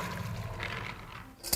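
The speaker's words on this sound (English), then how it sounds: "I dump off the extra water." Excess soaking water tipped off dry beans in a crock pot, a steady close watery pour and trickle running throughout, ending in a brief louder splash.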